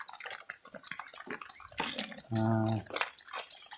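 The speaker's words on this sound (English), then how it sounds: "Wash and dry your brush." A paintbrush is washed in water, giving brief close swishing and dripping splashes with a short rinsing gush partway through.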